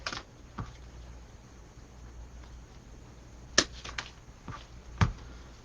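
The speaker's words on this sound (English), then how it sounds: "I don't need a whole stem, so we're just going to cut one piece off" A few sharp scissor snips cut a decorative stem into pieces while making a peach-themed door swag with wreath decor, sounding as isolated close clicks, two or three spaced near the end over a quiet background.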